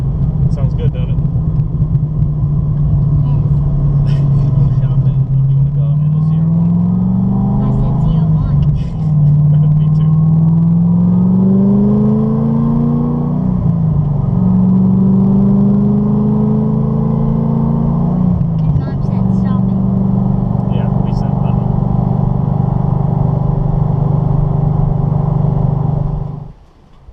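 A Corvette ZR1 engine drones steadily while driving, loud and close inside the cabin, its pitch rising and falling through several gear changes over a constant low rumble.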